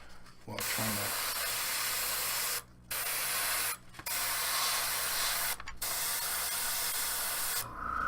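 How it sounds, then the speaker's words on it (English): Spray paint hisses onto the interior of a crystal in loud bursts, about five long sprays separated by short pauses. "now I'm going to spray the interior of the crystal here"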